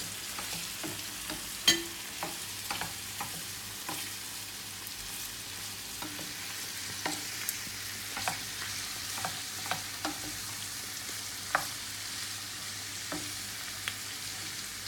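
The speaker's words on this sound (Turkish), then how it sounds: "Bu şekilde güzelce soğanla harmanlıyoruz" Kaldirik pickle and onions stir-fried in a pan: a steady soft sizzle runs throughout, broken by frequent scraping clicks of the spatula tossing the mixture, close and moderately quiet with no talking.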